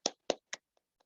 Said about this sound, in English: Clapping for you all